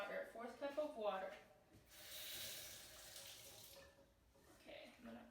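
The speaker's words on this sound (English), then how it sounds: "our next step is to add a fourth cup of water" Water, about a quarter cup, is poured into a pie dough mixture made with Crisco, giving a steady splashing trickle for a couple of seconds that follows a brief voice and then tails off.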